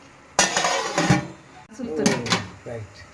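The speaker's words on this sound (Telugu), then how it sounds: "జర్ర మూత పెట్టేది" A metal lid clatters onto a pot of paneer shahi dum biryani, with sharp clanks and scrapes, one near clatter then a second burst of clinks about a second later; a voice speaks over it.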